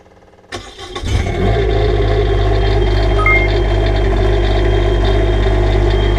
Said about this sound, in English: so we got the generator started